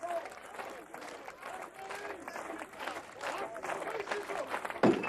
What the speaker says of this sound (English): And the crowd getting behind him now.